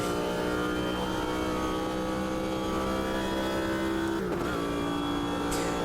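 A six-litre race car engine in the Automobilista 2 racing game howls at high revs, a loud continuous harmonic drone with a brief shift dip near the end, alone with no talk.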